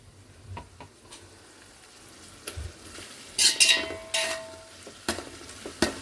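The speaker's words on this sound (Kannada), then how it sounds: "ಎಣ್ಣೆ ಹಾಕ್ಬಿಟ್ಟು ಫ್ರೈ ಮಾಡೋಕ್ಕಿಟ್ಟಿದ್ದೀನಿ" Onions frying in oil for a 2 kg chicken dum biryani crackle quietly, with scattered ticks and a few louder bursts of sizzle and spatula scraping toward the end.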